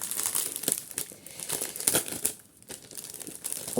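Plastic and paper packaging from a Bridgerton-themed subscription box crinkles and crackles steadily up close while the box is being opened, with no one speaking.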